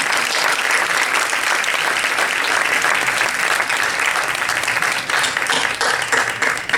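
Loud, sustained applause from a film festival audience fills the space, with many hands clapping densely and evenly throughout, with no talk heard over it.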